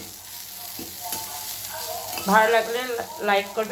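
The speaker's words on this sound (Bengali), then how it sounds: "আমার পটলটা ভাজা হয়ে যাচ্ছে" Pointed gourd peels fry in a pan with a steady sizzle and the scrape of stirring, and someone speaks over the cooking in the second half.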